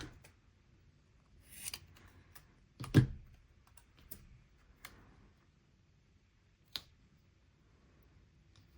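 Scissors snip a small paper leaf shape for a planner page, giving a handful of quiet, scattered cuts spaced over several seconds with no talking.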